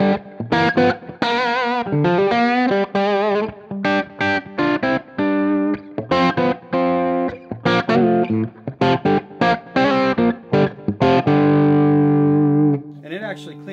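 A John McGuire Valley Pro electric guitar on its bridge pickup plays heavily distorted, choppy riffs with bright sustained chords and short muted stabs, loud and close, alone without talk.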